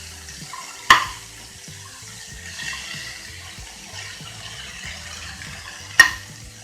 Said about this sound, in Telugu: ఇలా వేయించుకున్నాక దీంట్లోకి వేయించుకున్న శనగలు 1 కప్పు వేసుకొని ఇలా ఫ్రై చేసుకోండి